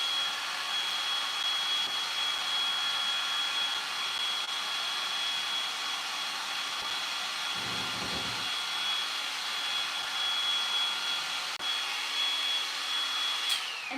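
Dryer blowing on wet paint, a steady loud whooshing hiss with a high whine running continuously throughout, briefly joined by a low thump near the middle.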